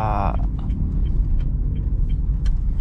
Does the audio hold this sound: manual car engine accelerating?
yes